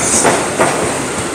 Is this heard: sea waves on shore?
no